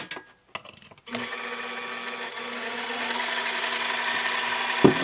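A metal lathe spins a small model caster part in the chuck while threading, a steady loud machine whine and hum that starts abruptly after a brief quiet start and runs continuously without speech.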